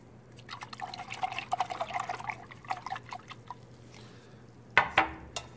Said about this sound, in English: you're going to go ahead and wash your brushes one at a time